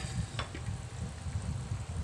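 A coconut milk fish dish, Filipino mekus-mekus style, sizzles and simmers in a covered pan, with a steady close frying crackle throughout and a few brief sharper pops.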